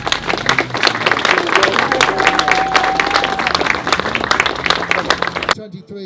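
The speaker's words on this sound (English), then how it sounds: "Big round of applause." A crowd at a car show and drift championship finale applauds an award, dense clapping and cheering with voices mixed in, ending abruptly.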